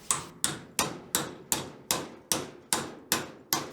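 Ten sharp metal hammer strikes at a steady rhythm, close and loud, as a U-joint retaining clip is driven into place on a Jeep JK axle, with no talking.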